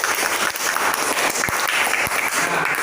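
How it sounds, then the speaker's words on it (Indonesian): A class applauding for a student group during a lesson: continuous, even clapping from many hands filling the room, moderately loud and steady, with a couple of sharper knocks standing out. "Tepuk tangan untuk kelompok 1."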